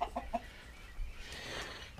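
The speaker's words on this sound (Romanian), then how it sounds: "Gâște, cocoș." A farmyard rooster clucks three quick times close by at a poor rural household, followed by faint bird and yard noise; no geese stand out.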